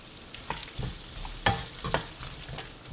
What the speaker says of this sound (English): Love that sizzling sound.